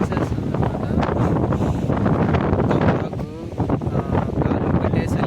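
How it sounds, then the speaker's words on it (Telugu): Strong, cold wind gusts steadily across a hilltop at Nandi Hills near Bangalore, a loud continuous roar buffeting the microphone with no voices. "గాలి ఒకటే చలిగా చంపేస్తుంది"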